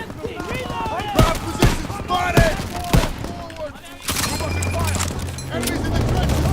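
Gunfire and bombardment fill a Call of Duty WW2 match as sharp shots crack repeatedly while someone talks over them, followed by a louder, sustained rumble of explosions and firing.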